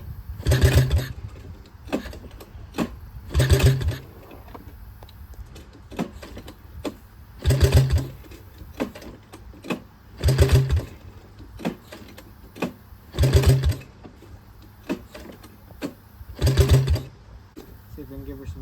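A Honda ATC 185 three-wheeler undergoes repeated starting attempts, with loud low rumbling bursts about every three seconds and quiet gaps between them, none settling into a steady idle.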